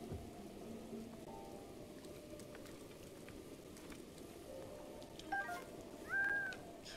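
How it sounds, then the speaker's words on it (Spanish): Steady rain pours down in the game The Legend of Zelda: Breath of the Wild, making a continuous soft hiss throughout, with a brief brighter chime and a swell near the end. "Se está lloviendo"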